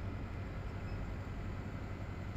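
A train in Farming Simulator 17 rumbling steadily, a low continuous engine drone with a broad mechanical hum at close, even loudness throughout.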